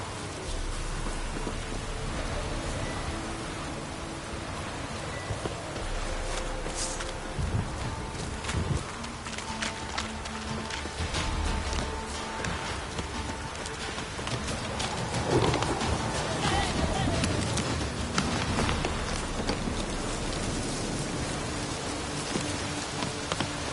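Rain pours steadily and loudly in the video game Witcher 3, a dense continuous hiss of drops with occasional low rumbles underneath, and no voices.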